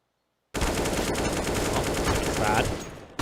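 Sustained automatic gunfire from a Counter-Strike match on the Inferno map, a dense continuous burst of rapid shots that starts abruptly after a brief silence and runs loud to the end.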